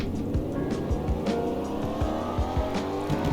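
A car engine in a Roblox Greenville driving game revs in 5th gear, a loud continuous drone rising and dipping repeatedly with brief tire squeals, heard alone.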